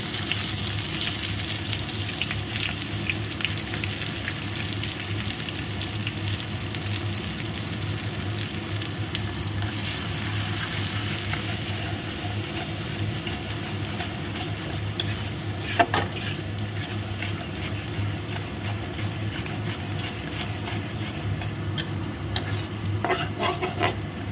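Sliced onions frying in hot oil with whole garam masala, being stirred steadily, a continuous sizzle with scraping stir strokes throughout and one sharper clink midway, no talking.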